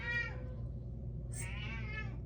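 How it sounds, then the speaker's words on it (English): A house cat meows twice indoors, a short call at the start and a longer, higher one near the end, heard fairly close over a steady low hum with no talking. "oh, and there goes the cat."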